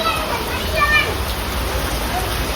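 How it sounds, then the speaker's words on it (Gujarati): Rain falls in a steady, even wash of broadband patter as water starts pooling nearby, with faint voices partly under it. "તો વરસાદ ચાલુ થઈ ગયો, આ બાજુ પાણી ભરાવાનું ચાલુ થઈ ગયું ધીરે ધીરે."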